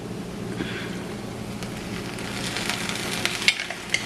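A potato and fish filling for fish rolls, with lemon juice added, is mixed in a pan off the heat: a soft, close sizzle with scraping stirs and a few sharp clinks near the end.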